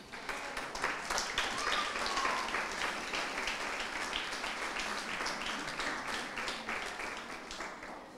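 A church congregation applauds for the Lord, with dense, steady clapping from many hands filling the room and holding at an even level throughout.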